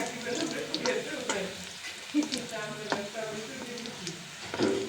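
Sour dal being tempered with dry red chili in hot oil, a soft steady sizzle with occasional stirring clinks and scrapes of a utensil in the pan.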